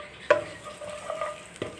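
Chopped garlic frying in ghee in a pan, a quiet sizzle under a few sharp stirring clinks of a spoon against the pan.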